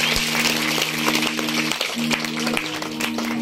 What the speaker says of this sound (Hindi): एक बार इस बालक के लिए जोरदार तालियां बजाइए